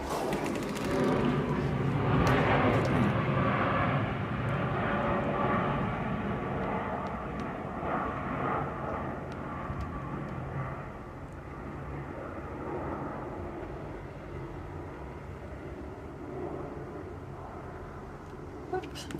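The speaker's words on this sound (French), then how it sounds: "J'entends l'avion, mais je le vois pas." An airplane flies overhead out of sight, a broad roar that is loudest early on and then slowly fades as it passes away into the distance, with a few faint clicks and bumps nearby.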